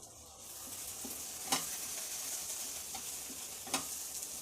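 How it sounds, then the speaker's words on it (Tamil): Masala of turmeric, coriander powder and chilli powder fries in a pan for chicken kurma, hissing in a steady close-up sizzle with two sharper stirring clinks partway through. "நல்லா வதங்கட்டும்."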